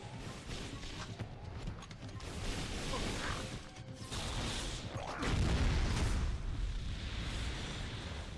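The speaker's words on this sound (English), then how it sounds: "so we got a big explosion gun that takes half of the purple ammo." Heavy explosion-gun blasts in the action video game Jak 3 boom and crash in repeated loud bursts that roll into a sustained, rumbling roar of debris and effects, with no talk.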